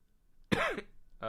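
A person clears their throat once and then gives a short cough, close and fairly quiet against a near-silent background, with no speech.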